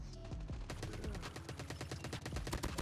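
Rapid automatic fire from the ASM10 rifle in the video game Call of Duty Mobile, a fast, even stream of sharp shots that carries through the whole short burst, loud and close.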